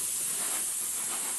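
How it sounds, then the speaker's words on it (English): Compressed air hisses out of an air nozzle in a loud, steady rush, bright and continuous throughout, as an air tank drains while blowing debris out of a laser cutter bed. "I'm just draining this air tank. That's why you hear it go down."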